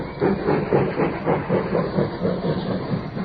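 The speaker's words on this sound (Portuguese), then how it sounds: "Aqui está o trem partindo." Train pulling out of a station on 1 September 1939, an old BBC archive recording: steady rhythmic chuffing and clatter with hissing steam, fairly loud and close, thin and band-limited like early broadcast sound.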